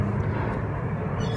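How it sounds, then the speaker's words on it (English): A low, steady roar of an airplane passing overhead fills the whole stretch, broad and continuous with no other distinct sounds, heard during bike workshop work. "Sorry about the plane."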